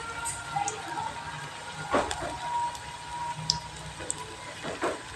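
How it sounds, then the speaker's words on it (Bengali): Potato batter fritters frying in hot oil, a steady close sizzle with a few soft splats and bubbling pops as the batter goes in, no talk. "এবার তেলের মধ্যে আলুর ব্যাটারটা দিয়ে আমি বড়ার আকারে ভেজে নেব একটু"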